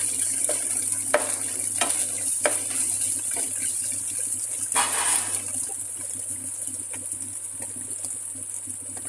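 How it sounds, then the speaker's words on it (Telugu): Ginger garlic paste sizzles and fries steadily in a pan, with a constant hiss and occasional clinks and scrapes of stirring. No voices are heard. "1 టేబుల్ స్పూన్ అల్లం వెల్లుల్లి పేస్ట్ వేసి వేయించుకోవాలి"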